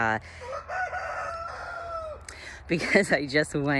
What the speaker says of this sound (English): My rooster Toothless is freaking out because I just went